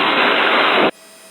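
A bush plane engine roars loudly and steadily close by, then drops abruptly after about a second to a faint hum as power is pulled back for landing.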